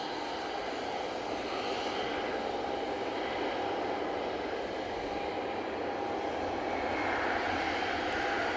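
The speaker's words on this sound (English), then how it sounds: "Helvetic Embraer E190, about to touch down" Helvetic Embraer E190 airliner on final approach to land at Manchester Airport, a loud continuous broadband engine roar that stays steady and swells slightly toward the end.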